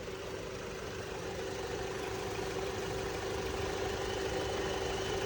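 A steady, low engine idle hums continuously with a faint tonal drone, fairly quiet and even throughout, from a 2023 Maruti Dzire Tour S petrol-CNG car, with no voices.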